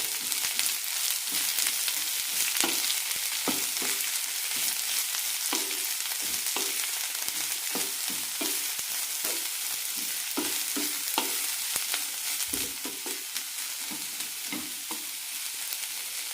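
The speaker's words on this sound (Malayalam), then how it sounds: "ഒരു മിനിറ്റ് നന്നായി വഴറ്റിയാൽ മതി" Bitter gourd sautéing in a pan with shallots, a continuous close sizzle broken by repeated scraping stir strokes at an irregular rhythm, without any speech.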